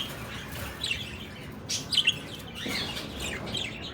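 Pet lovebirds, or parakeets, kept in an indoor enclosure chirp with several short, bright tweets, close by and scattered over a soft background hum, with a small cluster of calls in the middle.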